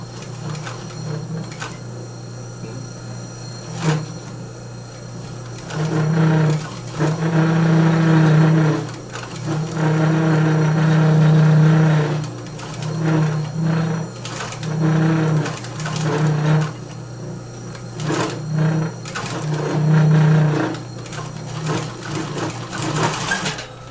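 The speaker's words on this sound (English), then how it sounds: "Bring your foot down, press your foot, and sew in a groove." A sewing machine stitching a leather belt runs in several long, close bursts separated by brief pauses, with no speech.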